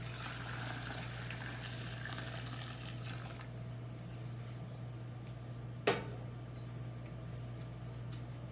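Hot water running from a tap as a steady, faint rushing flow under a low hum, with one brief knock near the end.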